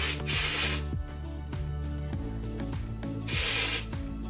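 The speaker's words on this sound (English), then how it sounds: "I'm just going to shake this up, and I'm just going to spray this in my hair" Hair spray sprayed onto hair from a shaken can, two short close hissing bursts separated by a pause, with faint handling clicks and taps in between.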